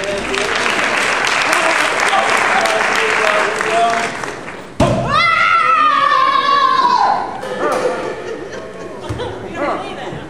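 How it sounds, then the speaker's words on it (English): Audience applause at a Maker Faire sound science demonstration, a burst of steady clapping for several seconds, then chatter, laughter and a speaking voice over fading claps. "Give him a hand."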